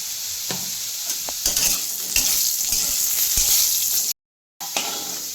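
Potatoes fry in mustard oil with turmeric in a pan, sizzling steadily and close while being stirred, with a brief silent gap near the end.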